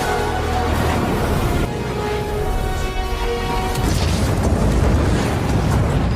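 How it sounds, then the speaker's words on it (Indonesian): A building blowing up in a film, a heavy rumbling blast and roar that sustains loudly across the whole stretch, dense low-end debris noise swelling rather than one clean bang. "karena paksaan dari Mike, dia menekannya dan gedung itu pun meledak"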